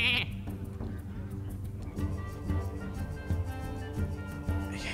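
Sheep bleating in the Hearthstone card game after a polymorph spell turns a minion into a sheep, with short bleats standing out over busy game music and effects.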